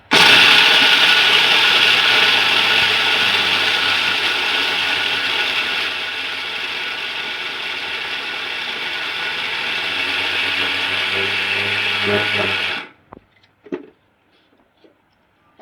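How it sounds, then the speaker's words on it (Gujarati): A mixer grinder pulverizes peanuts for shingpak with a loud, continuous whirring roar for about thirteen seconds, then cuts off abruptly, leaving a few faint knocks. "હવે છે ને મિક્સરમાં દળી નાખવાના છે"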